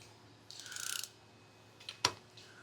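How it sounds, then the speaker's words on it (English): Torque wrench with a 1 3/8 socket tightening a castle nut on a Canco silencer hub to 50 foot-pounds, heard as a short metallic ratcheting burst followed later by a sharp single click, fairly faint with no talk. "torque wrench."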